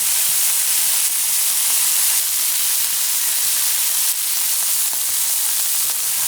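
Steaks for Steak Diane sear in a hot pan, giving a steady, loud broadband sizzle and hiss that holds evenly throughout with no talking.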